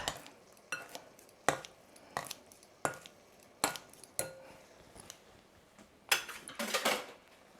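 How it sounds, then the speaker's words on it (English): Kitchen shears snipping bean thread noodles in a kitchen, a series of quiet separate metallic clicks and snips at irregular intervals, with a faster cluster of cuts near the end. "I'm going to use some kitchen shears, and I'm just going to trim them up a little bit"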